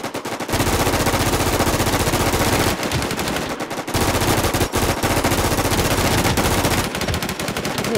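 Sustained automatic gunfire from the video game Infestation Thailand hammers on loudly and almost without pause, with a few brief breaks between long rapid bursts.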